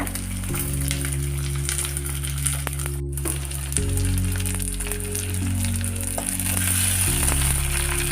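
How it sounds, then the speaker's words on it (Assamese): Onions fry steadily in hot oil for sambar, giving a continuous close sizzle that holds at an even level throughout, with a low steady hum underneath. "তেলখিনি ভালদৰে পকিছে পিঁয়াজখিনিৰ সৈতে।"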